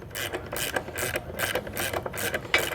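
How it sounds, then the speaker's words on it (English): A wrench ratchets rapidly as it tightens nylock nuts on a replacement air spring for a Trailair fifth-wheel pin box, with close, steady clicking bursts repeating throughout. "we'll take our wrench here and begin tightening them down"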